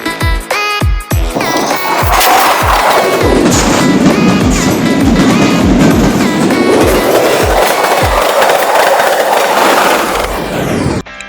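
A train passes close by near the Rooppur nuclear power plant, loud and continuous, with a rhythmic clickety-clack of wheels over rail joints and a rumbling roar that swells and fades as the carriages go by.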